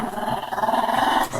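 A small dog growls in one continuous, rumbling snarl at close range, holding steady with slight swells for about a second and a half, with no voices.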